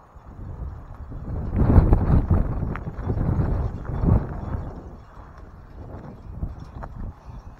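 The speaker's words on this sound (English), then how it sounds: "It like just started getting windy." Gusty outdoor wind in Branson, Missouri buffets the microphone, producing a rumbling, uneven roar that swells and fades over several seconds, with no one talking.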